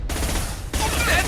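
Rapid gunfire bursts in the Mass Effect 2 video game, loud and dense with a brief gap, set against game sounds and a voice.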